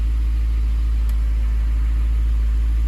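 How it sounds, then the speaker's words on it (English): A 2002-2005 Ford Thunderbird engine idles while warming up, a steady low rumble with an even, unchanging hum throughout. "I've had the engine idling for about a minute here, just getting it warmed up"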